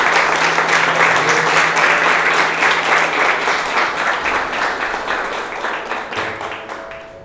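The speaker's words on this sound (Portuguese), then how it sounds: "Vamos dar um aplauso ao Senhor" A church congregation at a thanksgiving service applauds for the Lord, with steady dense clapping close and loud that gradually tapers and thins toward the end.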